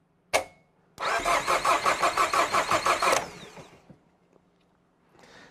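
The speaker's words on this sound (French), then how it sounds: "sous l'action du démarreur, nous allons prendre notre compression moteur" A car engine cranks on the starter motor during a compression test in a steady rhythmic churn of about a dozen pulses for two seconds, then stops abruptly; a click precedes it.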